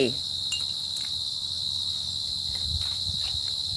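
A steady, high-pitched cricket trill carries on without pause at dusk, with faint soft rustles and muffled bumps underneath.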